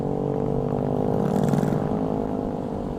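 A Suzuki Satria FU motorcycle engine hums steadily and evenly at idle, a smooth continuous drone with no revving.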